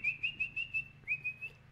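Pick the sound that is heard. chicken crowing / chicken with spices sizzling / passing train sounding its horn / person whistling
person whistling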